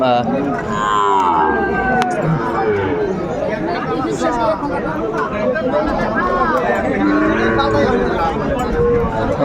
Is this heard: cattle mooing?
yes